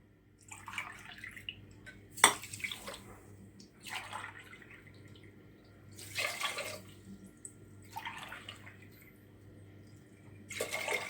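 Water is poured from a glass onto sugar in a pot to make syrup for şekerpare, several short splashy pours separated by pauses, close and fairly quiet.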